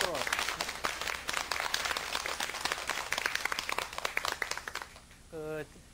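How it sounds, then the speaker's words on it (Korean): A classroom or studio audience claps hands in a dense, moderately loud patter during a lecture on summer restorative foods, fading out before a brief tonal sound near the end. "한번 박수 한번 치고 이렇게 넘어갑시다"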